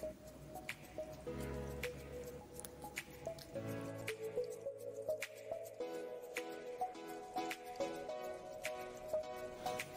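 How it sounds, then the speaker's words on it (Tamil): Chopped onions sizzling in hot oil in a pan for egg curry, a steady crackle with wet drips and squishes as they are stirred, fairly close, with faint kitchen clatter and no talk. "இப்போ நாம் கட் பண்ணி வச்ச வெங்காயத்தை இதில் சேர்த்துக்கலாம்."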